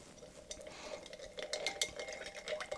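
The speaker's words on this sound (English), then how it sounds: "Do a nice long stir" Bar spoon stirring a clear Inverted Manhattan cocktail in a mixing glass, a soft, steady swirling clink of spoon and ice against glass heard close and quiet for a few seconds, with no talking.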